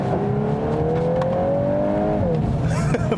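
A 2022 Volkswagen Golf R all-wheel-drive engine droning with pitch rising steadily as it revs while drifting in drift mode, then dropping off, heard from inside the car with a faint squeal near the end.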